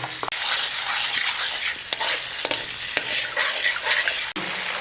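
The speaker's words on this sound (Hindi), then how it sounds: "लहसुन अदरक का पेस्ट हमने डाल दिया, उसको थोड़ा सा ब्राउन करेंगे" Loud, steady sizzling of garlic-ginger paste frying in hot oil for Punjabi-style dal fry, with a few scraping stirs of a utensil against the pan.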